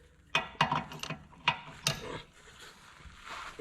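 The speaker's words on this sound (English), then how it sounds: "I just switched over to millimeters so I can use my breaker bar" Breaker bar with a 21 mm socket loosening a wheel nut on a Dodge Ram 4x4, a handful of sharp metallic clicks and clanks spaced irregularly, close and fairly quiet.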